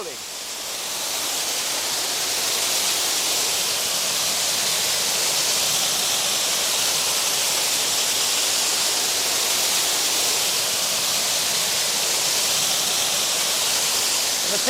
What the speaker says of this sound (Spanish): Es extraordinario sentir el poder del agua cayendo.